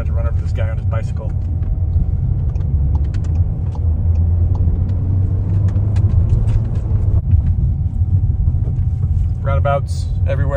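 Inside a Seat Leon FR driving on roads in Spain, the engine and road noise form a steady, loud low rumble throughout, with a faint tonal hum and scattered clicks over it, and someone talking at times.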